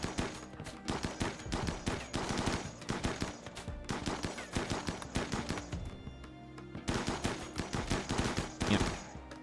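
Gunfire from a RimWorld battle rattles in dense, overlapping rapid volleys, with a short lull partway through before the shooting resumes just as intensely.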